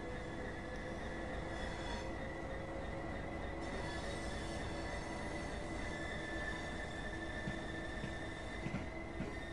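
A train in the Train Sim World 2 video game pulls slowly out of a station on the East Coastway route, giving a steady rumble with faint wheel squeals and clicks and no talking.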